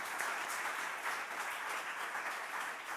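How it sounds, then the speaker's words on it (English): Audience at a conference session breaking into steady applause, a dense wash of clapping from many hands heard at moderate distance, with no talking over it. "So I think we should give him a big applause."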